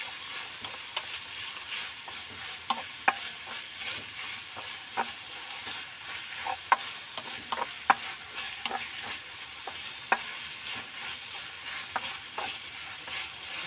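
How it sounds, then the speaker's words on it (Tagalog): Food stirred in a cooking pan, with a continuous sizzle and scattered scraping clicks from the utensil, no talk. "Yan, haluin natin."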